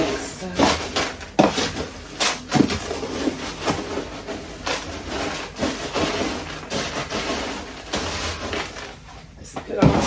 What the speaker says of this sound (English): Just a good old stir.